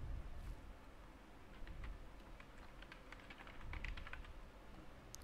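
Keystrokes on a computer keyboard while email addresses are typed in an Outlook window, a faint, irregular run of quick clicks over a low room hum, with no voices.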